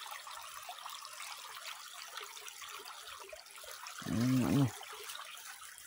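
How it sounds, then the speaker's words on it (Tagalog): A steady wash of flowing stream water in an outdoor spot where fish are found, with a short spoken word briefly rising over it near the end. "May sapa dito."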